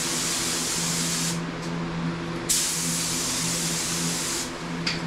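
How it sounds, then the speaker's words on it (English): A spray gun hisses steadily as clear coat goes onto a 2018 Dodge Charger Hellcat, a loud continuous airy spray with brief pauses where the trigger releases, close by and alone. "It's time to spray the clear."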